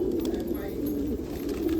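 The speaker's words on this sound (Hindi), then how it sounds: "ये देखिए, ये नप्ता भी बहुत ही प्यारा कबूतर है।" Patiala pigeons coo softly and continuously on a rooftop loft, a low steady murmur of several birds close by, with someone talking over them.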